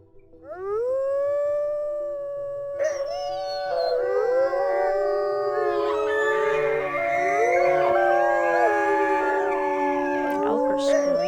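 Elk scream in the wolf-survival game WolfQuest, loud high wavering calls rising and overlapping from several animals in a small herd, continuing throughout with no talk.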